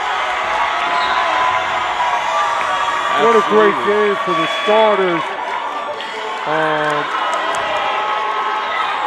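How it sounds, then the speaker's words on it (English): Basketball crowd cheering in a men's college gym as a bench player checks into a game against Hunter, a steady roar under an announcer's voice with rising swells of whoops. "And the crowd getting excited for Jackson Edney."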